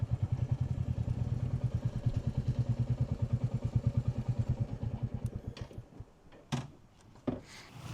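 A Royal Enfield Meteor 350 idles with a steady, thumping single-cylinder beat as it is parked, then the engine cuts off, followed by a few sharp clicks and clunks nearby.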